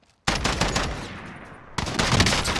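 Dense, rapid automatic gunfire in the video game Warzone, loud and sustained with a brief dip in intensity before a second heavy burst of shots.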